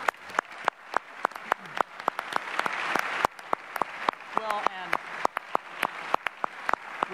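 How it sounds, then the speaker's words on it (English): Audience applause after a 2018 Wisconsin gubernatorial debate at UW-Milwaukee, a steady wash of clapping punctuated by sharp, distinct claps close to the microphone, with some voices beneath. "can we give them a round of applause?"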